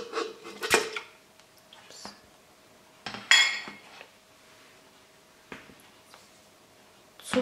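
Cookie dough ingredients for Greek Easter koulourakia go into a mixing bowl, heard as scattered clinks, knocks and clattering utensil taps separated by quiet pauses, no talking.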